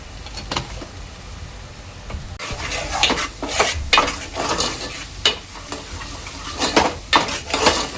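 Agri Koli masala with turmeric is fried in oil and stirred in a pan, a close sizzle broken by repeated scraping strokes of a spoon and metallic clinks, with no voices.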